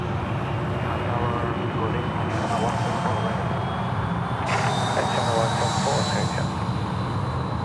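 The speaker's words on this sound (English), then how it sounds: "Qantas 749, service off to Adelaide tonight, taxiing up taxiway Charlie" A Qantas jet bound for Adelaide taxis along a taxiway at Sydney Airport, its engines a steady loud roar with rising whine, while a voice talks over it continuously.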